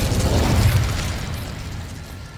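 An Incendio fire spell from Hogwarts Legacy goes off in a loud, close whooshing burst with a deep low rumble that fades over about two seconds.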